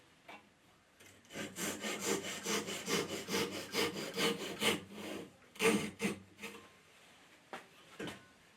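Hand saw cutting a wooden workpiece clamped between a fence and a cross-cut guide for a cross half lap joint, steady close back-and-forth rasping strokes in a regular rhythm, pausing briefly near the end before a final stroke.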